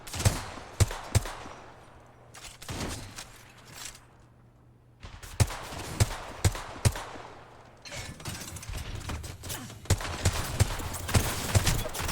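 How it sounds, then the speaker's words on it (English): Bursts of gunfire from an Apex Legends match, several sharp shots scattered through with quieter gaps between volleys, fairly close and loud against a low game ambience. "Akron starts to put some shots down"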